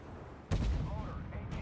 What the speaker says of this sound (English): I'm firing now high explosives